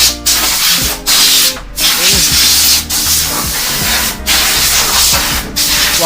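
A Royal Enfield motorcycle is washed with a pressure water spray, producing loud, broad hissing bursts that cut in and out in repeated pulses, with a low mechanical hum underneath and no talk.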